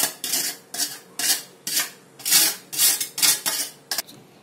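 Cooked moong dal being scraped and poured back into the metal cooking pot, heard as about nine rhythmic bursts of spoon-on-pot scraping and clatter, close and fairly loud, with no talk.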